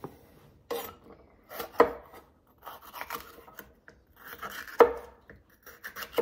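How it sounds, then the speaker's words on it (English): A knife chops small peppers on a cutting board in a home kitchen: irregular sharp knocks and light scraping strokes, close and clear with no talking. "I always like to chop one and then see where the seeds are and then chop around them if I can."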